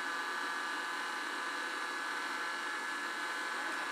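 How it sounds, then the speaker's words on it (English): A small handheld vacuum cleaner runs indoors with a steady, close, even whooshing hum that holds for the whole stretch without pause. "I think my vacuum is pretty cool right now."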